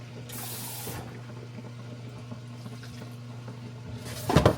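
Water from a kitchen tap pours into a cooking pot in brief, faint bursts, with a steady low hum running underneath.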